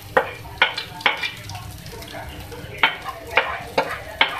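Beef keema with cumin, chaat masala and garam masala being stirred in a pan, the spatula scraping in sharp, regular strokes over a soft, steady sizzle.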